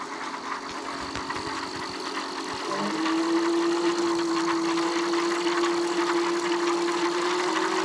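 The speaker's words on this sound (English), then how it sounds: "So I tried the throttle, lifted the rear wheel off the ground." An Ariel Rider Kepler electric bike's rear hub motor spins the raised rear wheel under throttle. Partway through, a steady, fairly loud motor whine begins over a faint background hum and holds evenly to the end.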